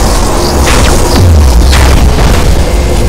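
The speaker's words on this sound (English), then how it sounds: "Initiate Thunderhawk bombardment!" Thunderhawk bombardment explosions in the space strategy game Battlefleet Gothic Armada 2, loud continuous rumbling booms and bursts layered into a dense, saturated roar with no speech.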